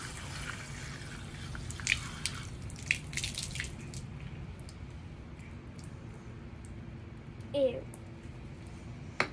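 Water drips and splashes faintly in a sink while something crusty is washed out, a few scattered drops and a brief louder splash over quiet background noise, with someone talking in places.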